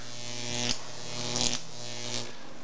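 A Jacob's ladder high-voltage electric arc igniting gunpowder gives a steady harsh buzz with a few brief crackling flares as it sparks, close and fairly loud, with no talking.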